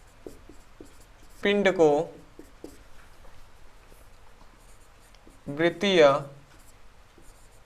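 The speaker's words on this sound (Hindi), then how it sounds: "तो यहाँ पे मैं डेफिनेशन लिख दे रहा हूँ।" Hand writing a definition, likely chalk or pen on a board, with light scratchy strokes under someone speaking Hindi in a physics lesson, his voice loud in two bursts.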